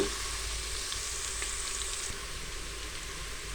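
Ginger garlic paste and onions fry in a pan for hotel-style daal mash, giving a steady, close, even sizzle throughout with no talking.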